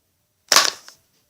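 A homemade crossbow looses an arrow: one sharp snapping shot followed by a short decaying rattle, then silence.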